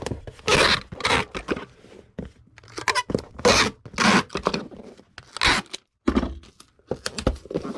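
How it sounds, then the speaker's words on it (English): Packing tape being pulled off a roll and pressed onto a shipping package: a series of loud, close, ripping screeches in irregular bursts, with short quiet gaps between pulls. "And tape this."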